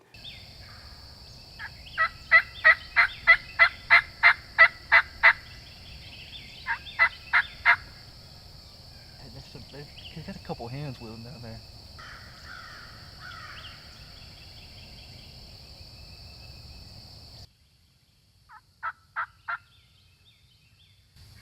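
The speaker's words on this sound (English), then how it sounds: "he finally gobbles one time, and I can tell he's substantially closer" A wild turkey gobbles in a rapid string of loud bursts during a Mississippi turkey hunt, then gobbles again briefly a few seconds later. Someone speaks quietly in between, and a gobble returns near the end.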